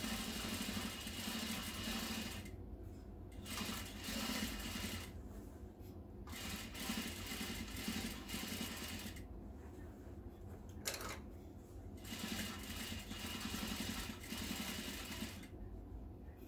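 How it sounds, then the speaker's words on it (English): A sewing machine stitches a pocket bag seam in rapid mechanical bursts, stopping and starting several times with short pauses between runs, close but fairly quiet. "And then go ahead and sew all along my pocket bag."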